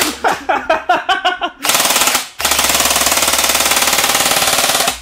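Airsoft gun with its trigger bypassed by rewiring after soaking in Mountain Dew, firing a few loud close bursts, then a brief pause and a long unbroken stream of rapid automatic shots.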